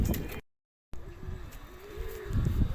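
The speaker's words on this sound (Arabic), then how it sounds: "خلي بالك ونكمل مع بعض بقية الفيديو واحنا بنفك الاريال وبنسيب الحمام." Pigeons cooing and calling near a loft as the birds are let out, repeated soft coos over a low rumble of wingbeats and movement, with a brief dropout early on.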